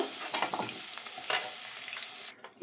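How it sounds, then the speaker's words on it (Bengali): Potatoes frying in a pan with a little salt, a close sizzle with brisk stirring and scraping strokes, fairly quiet overall, fading out in the last moments. "আলুতে অল্প সামান্য নুন দিয়ে ভেজে নেব, ভালো করে লাল লাল করে ভেজে নেব"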